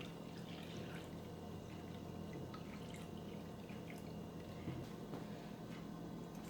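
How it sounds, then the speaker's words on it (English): Hot tap water poured into a glass dish, a faint steady trickle and splash that runs continuously with small drips, close by and quiet, no talking. "Then I take hot water from the faucet, as hot as I can get it. Then I just pour it in here."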